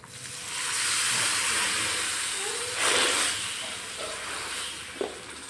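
Tempering for peanut chutney hitting hot oil gives a steady broad hiss throughout, swelling briefly near the middle, with a sharp crackle near the end; no talk.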